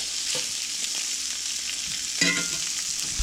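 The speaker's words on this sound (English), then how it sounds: "just threw them in the pan and cook them up here a little bit" Kielbasa sausages fry in a cast iron pan with a steady close sizzle and a brief clattering stir near the end.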